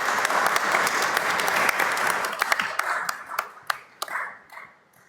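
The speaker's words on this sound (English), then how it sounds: "A round of applause to our speakers," An audience at COP30 in Belém, Brazil applauds the speakers. Thick, lively clapping thins out over a few seconds into scattered individual claps that trail off alone.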